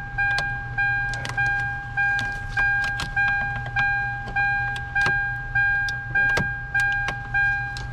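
Car warning chime dinging in a steady repeating pattern, roughly eight evenly spaced rings, close and clear, while a worn, stuck ignition lock cylinder is pulled out with its key, with faint clicks and a low hum beneath.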